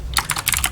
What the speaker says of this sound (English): which is why I'm loudly, clatteringly typing as I talk